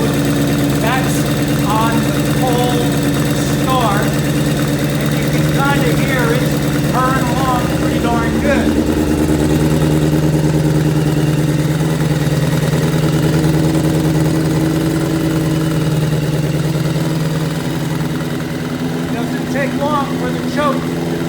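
1981 Kawasaki GPz550 motorcycle engine idling steadily while warming up after the choke is taken off, a close continuous low rumble with a few brief higher sounds over it.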